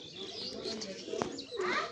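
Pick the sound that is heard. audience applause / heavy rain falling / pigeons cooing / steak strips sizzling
pigeons cooing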